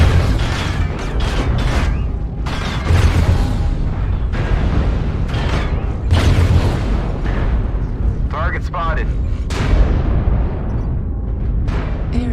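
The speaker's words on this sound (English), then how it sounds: "Artillery strike activated." Artillery strike in a mech combat video game, heavy booming explosions and rumbling blasts one after another, loud and dense, with speech over the barrage.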